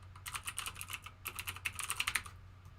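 Rapid bursts of keystrokes on a computer keyboard during a mobile-repair livestream, close and crisp, with irregular clusters of clicks and brief pauses and no voice.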